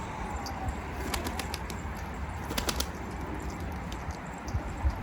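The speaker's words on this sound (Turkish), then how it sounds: "Şöyle kuşları dışarı salsana Muhammed." Pigeon wings flap in quick fluttering bursts against a steady rainy hiss, with faint bird sounds scattered through, at a coop.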